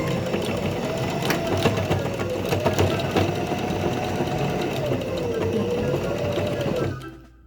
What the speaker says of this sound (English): All of my rows are pinned and I'm ready to start sewing.